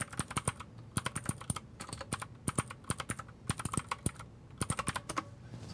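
Rapid bursts of keystrokes on a computer keyboard, crisp and close, with clicks clustered in quick runs separated by brief pauses, steady over a faint background hiss and no talking.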